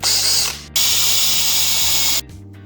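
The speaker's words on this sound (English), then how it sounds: "We gotta countersink them inside the wood, so we're gonna use the spade bit." A spade bit on a power drill bores a countersink into wood, the motor whining loudly up close in two long runs separated by a short pause.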